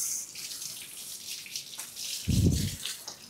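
Steady running water splashing into a rooftop drain, with a louder gush of low, heavy flow near the end.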